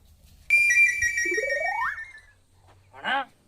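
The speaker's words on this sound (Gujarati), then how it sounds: "પેલા ભોલુબાસી તે ફોન ઉપર ફોન કરે છે" A mobile phone ringtone for an incoming call plays as a bright electronic melody with a rising sweep for about two seconds in a village comedy scene, followed by a brief spoken word.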